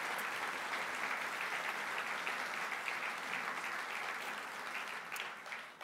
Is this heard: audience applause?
yes